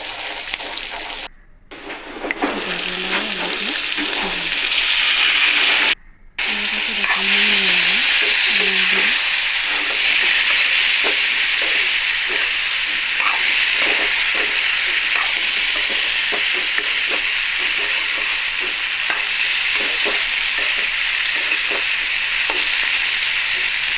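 Onions sizzle and fry loudly in plenty of oil in a kadai with salt and turmeric for a bitter gourd stir-fry, with a spatula scraping and stirring in uneven strokes and two brief dropouts near the start.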